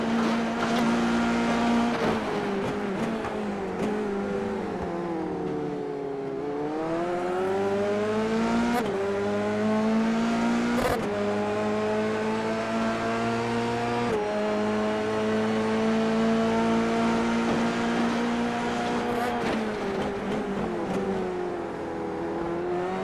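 Onboard engine of a sim F3 race car at Auto Club Speedway in a racing video game, a loud continuous high whine rising and falling through gear shifts and revs, with other cars audible nearby, no talk.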